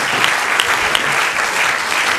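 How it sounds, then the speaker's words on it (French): Audience at a mentalism show applauds loudly, a thick continuous roar of clapping with a few sharper individual claps standing out, steady from start to finish. "Applaudissez-les encore vraiment très fort."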